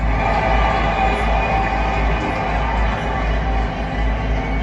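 Continuous roar of a large crowd cheering at the Melbourne Cricket Ground stadium, a dense, steady wash of voices with no breaks, loud and sustained.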